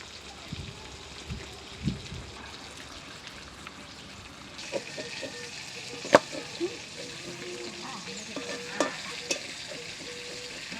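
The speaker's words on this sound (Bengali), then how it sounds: "আস্তে আস্তে জাল দিয়ে মাছগুলো ভেজে নিতে হবে" Pieces of boal river fish frying slowly in oil over low heat, a soft steady sizzle with occasional clinks and stirring scrapes, fairly quiet and close.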